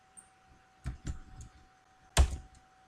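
A command is typed on a computer keyboard in short bursts of a few soft, close keystrokes, ending with one sharper, louder key press in a quiet room.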